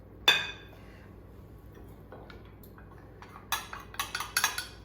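A spinach and goat cheese tart filling is stirred briskly in a bowl, a sharp utensil clink opening, then quiet mixing before a quick run of close, bright metallic taps against the bowl's rim.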